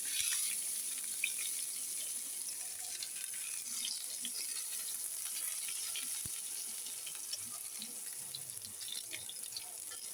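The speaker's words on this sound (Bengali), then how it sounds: "পেঁয়াজটাকে আমি হালকা একটু ভেজে নিব।" Chopped onions lightly frying in a pan over lowered heat for a Bengali beef bhuna give a steady, soft crackling hiss that runs evenly throughout with faint scattered pops.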